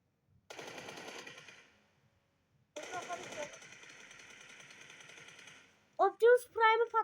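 Two long bursts of rapid automatic M4 rifle gunfire in a video game, one short and one sustained, followed by a voice speaking briefly.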